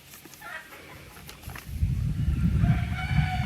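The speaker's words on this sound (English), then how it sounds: "More roosters." A rooster crows a short way off, rising over soft clucking and farmyard rustling.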